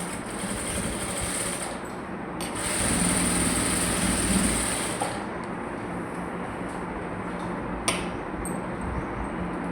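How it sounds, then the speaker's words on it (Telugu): A sewing machine stitches a strip of patti onto the main cloth, running in a steady, continuous whir close by for most of the stretch, briefly rising in speed in the middle, with no talk. "ఇలా మెయిన్ క్లాత్ పై పెట్టి స్టిచ్ చేసుకోవాలండి"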